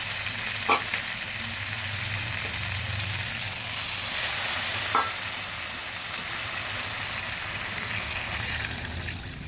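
Water goes into a hot frying pan that already holds fried potatoes and fish, giving a continuous loud sizzle and hiss with a couple of brief knocks, all without voices.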